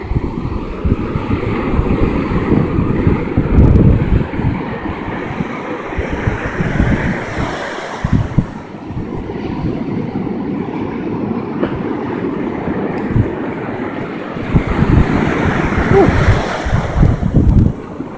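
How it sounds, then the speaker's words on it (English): Ocean surf at Jones Beach rumbles in a steady low roar, with louder surges as waves build and break nearby, mixed with wind buffeting; a few voices are faintly present. "You don't see the waves, they get bigger and bigger and bigger."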